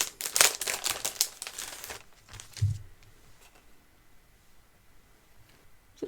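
Shiny plastic packaging holding small decorative craft keys crinkles and rustles in a busy burst of handling close to the microphone, then goes quiet with a few faint touches.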